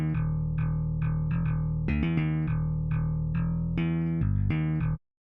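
Slap bass virtual instrument in FL Studio playing a quick plucked riff, sharp percussive note attacks over a sustained low drone, clearly synthetic, close and steady before stopping abruptly, no talking.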